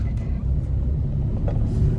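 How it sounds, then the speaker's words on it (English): An Alto LXI car drives along a busy road, its engine and tyres making a steady low rumble throughout, close and continuous, with faint traffic noise around it. "I'm just trying to show you how easy it is to drive this car"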